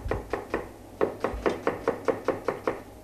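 Onions are chopped for fajitas with a knife on a board, giving steady, evenly spaced thuds at about three per second, close by and alone.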